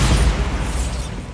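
Bombarda blasting spell cast in Hogwarts Legacy, a loud booming explosion with a heavy low rumble that decays over about a second, with no talk over it.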